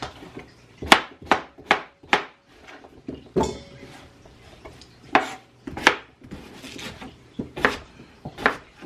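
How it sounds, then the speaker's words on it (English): A knife chops vegetables on a cutting board in quick, uneven strokes, each a sharp thunk with short pauses between, roughly a dozen cuts, close and clear with no talking. "I'm just gonna quick rough chop, bite size approximately"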